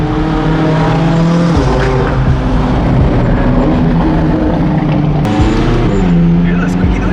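A low-slung McLaren sports car's engine hums close by with a shifting, tonal whine and a faint squeaky note, while people talk over it throughout.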